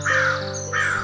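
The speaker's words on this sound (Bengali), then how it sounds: "আর শহরে কাকের চিৎকারে।" Crows caw in a city, two harsh loud calls close by, separated by a short gap.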